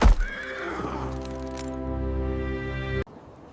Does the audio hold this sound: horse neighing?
yes